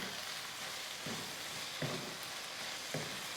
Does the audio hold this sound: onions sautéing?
yes